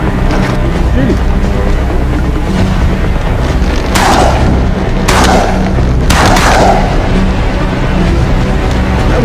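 Three loud, sharp gunshots ring out about a second apart during a bird hunt, each with a short echo, over steady outdoor noise and some voices.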